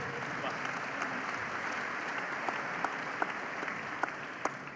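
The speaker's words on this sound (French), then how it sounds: "On peut applaudir la personne qui a crié l'écoute." An audience claps for a person who called out a word during a live talk, the applause steady and moderate, with a few sharper individual claps standing out near the end.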